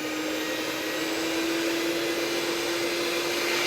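An electric mixer whirs steadily at high speed, whipping egg whites for meringue, with a constant near whine and no talking.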